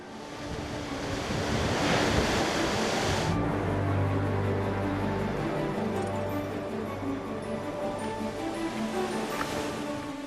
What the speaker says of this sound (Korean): 절벽 안으로 들이치는 파도가 부서지면서 하얀 포마를 일으키는데